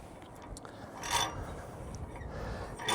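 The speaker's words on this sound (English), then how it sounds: "I'm gonna go ahead and bring up the rope on the pulley." Rope rasps and rubs as it is hauled up through a pulley while a half-wave dipole antenna comes down, producing uneven scraping strokes at close range with no voices.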